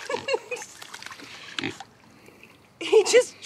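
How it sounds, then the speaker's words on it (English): A big farm pig grunts in short bursts on a desert homestead, close by, with people talking over and between the grunts. "Look at this big old pig."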